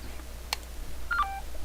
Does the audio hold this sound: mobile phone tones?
yes